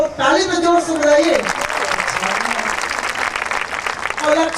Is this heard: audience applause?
yes